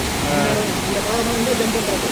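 The Hogenakkal waterfall in Tamil Nadu sends out a steady, broad roar of rushing water, close and continuous with no breaks, and a voice talks faintly underneath.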